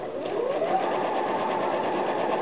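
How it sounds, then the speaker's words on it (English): A sewing machine stitches quilt pieces straight down a seam line, its motor giving a steady, close, continuous whirring buzz throughout. "now I'm going to start sewing"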